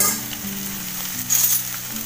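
Okra fries in a pan with a steady, close sizzle and crackle, joined by a low hum and occasional soft stirring sounds.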